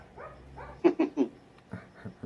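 A dog barks indoors, a run of three quick woofs followed by a couple of softer ones, moderately close, with faint whining and low background noise.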